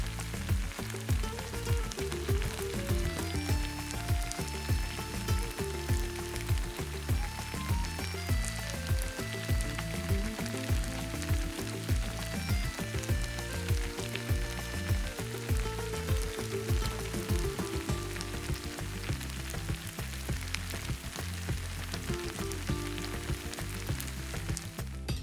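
Seafood paella sizzles and fries loudly in a pan over high heat, a continuous dense crackle close up that runs steadily throughout with no voices.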